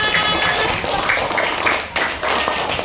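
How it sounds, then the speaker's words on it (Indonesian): Elementary classroom children clapping together, a steady patter of hands with some voices underneath, nearby and moderately loud. "tepuk tangan untuk kita semua"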